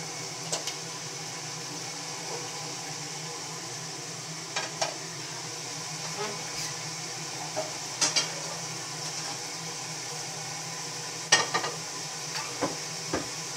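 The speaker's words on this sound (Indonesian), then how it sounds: "Kalau goreng telur," Eggs fry in oil in a pan, giving a constant soft sizzle broken by scattered small pops and clicks of a utensil.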